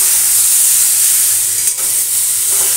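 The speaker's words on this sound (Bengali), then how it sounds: "বয়েল করা সবজিগুলো এবার ফোড়ন দিয়ে এই যে একটু ভাজা ভাজা করে দিচ্ছি" Boiled vegetables fry with tempering spices in a pan, a loud, close, steady sizzle and hiss with a brief dip near the end, no voices.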